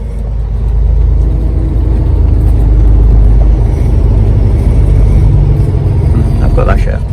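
Classic Volvo F16 Globetrotter truck engine droning loudly from inside the cab as the driver works through the gears, a heavy low rumble that swells and holds steady, with faint clicks near the end.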